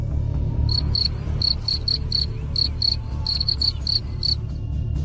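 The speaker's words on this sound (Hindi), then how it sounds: "क्या आपको भी झींगुर की आवाज सुनाई देती है?" A cricket chirps in short, high, regular bursts, about a dozen pulses spread evenly over a low steady hum, clear and close with no voices.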